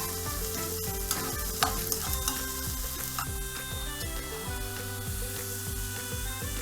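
Chopped onions stirred and cooked slowly in a pan over low to medium heat for a Chicken Achari sauce: a steady close sizzle with scraping spoon strokes, alone with no talk.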